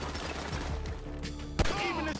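Gunfire in the video game GTA V: rapid shots crackle through a dense mix over two seconds, with one sharp louder blast near the end, under a busy game soundscape.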